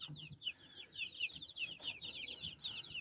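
Young laying hens and roosters in a two-level coop give repeated soft clucks and short chattering calls, fairly faint and close, with no talk.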